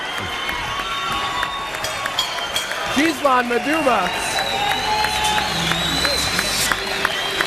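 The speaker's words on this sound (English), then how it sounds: "And the Gatineau crowd is on its feet in approval." A Gatineau boxing crowd at the 2013 Maduma vs de los Santos bout cheers and claps with a continuous roar and scattered sharp claps, while an announcer talks over the din.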